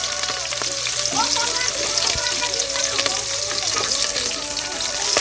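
Onions dropped into hot oil for a meat dish, frying with a loud, dense sizzle and crackle close by, stirring clinks scattered throughout, and a voice faintly under it.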